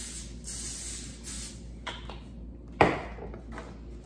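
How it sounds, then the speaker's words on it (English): Butter-flavored cooking spray hisses from a can onto a pan in several short bursts over steady background noise. A sharp clunk sounds near the end. "So I'm going to spray that with the butter flavoring."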